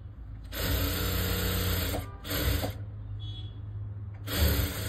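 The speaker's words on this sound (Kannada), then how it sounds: "ಮೈನ್ ಫ್ಯಾಬ್ರಿಕ್ ಅನ್ನ ಇದ್ರ ಮೇಲಿಟ್ಟು ಸ್ಟಿಚ್ ಮಾಡಿದ್ರೆ ಆಯ್ತು" A sewing machine stitches fabric with piping for a tailoring job, running in three close, loud bursts with brief pauses between them and no talking.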